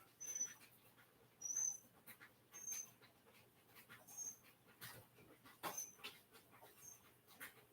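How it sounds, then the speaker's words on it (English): A small bird crying outdoors in cold, slushy weather, giving thin, high chirps at a fairly regular pace of roughly one every second, faint and distant against quiet background noise. "There's a little bird crying out there."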